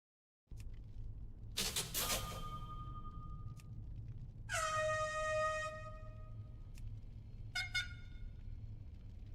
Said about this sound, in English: an air horn sound almost identical to the one we currently use